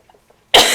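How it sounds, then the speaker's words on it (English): A single harsh, loud cough bursts out suddenly after a brief near-silence with a few faint breathy sounds, then trails off rough and breathy. "I've been coughing so much and I'm so sorry"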